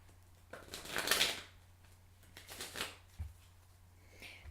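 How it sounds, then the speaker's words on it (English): Tarot cards being shuffled quietly beneath a table, soft papery riffling bursts that swell and fade a few times, with a faint low hum underneath. "Let me give my cards a shuffle here. I'm trying to do it quietly under the table."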